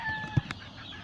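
Chickens on a farm, with a brief cluck or two standing out over a faint, low barnyard background, short and fairly quiet.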